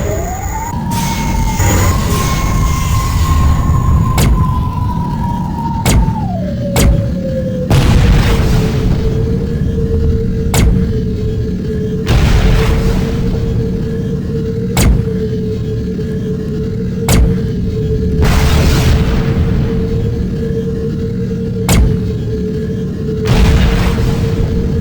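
Mines blowing up one after another in the space combat game Tachyon: The Fringe, loud sharp booms recurring every few seconds over a steady droning engine tone with no talk.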